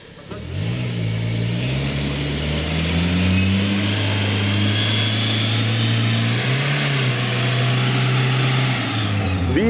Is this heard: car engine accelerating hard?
yes